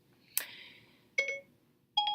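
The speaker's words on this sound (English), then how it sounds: "Siri just went off because my phone is next to me" Three short electronic chime-like tones from a phone's voice assistant activating nearby, the first sharp and bright with a lingering tail, followed by two shorter two-note chirps, clear against quiet background.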